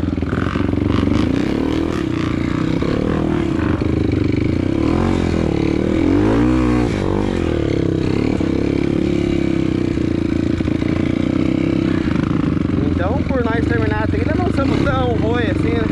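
A Honda Tornado motorcycle labours on a hard, muddy trail ride, its engine droning loud and constant with rises in revs, and someone talks over it.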